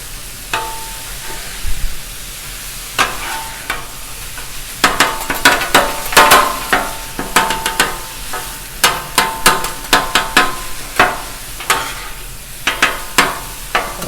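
Peppers and onions frying on a Blackstone griddle, with a steady sizzle under repeated sharp metal spatula scrapes and clinks as the vegetables are stirred and turned, fairly close and continuous.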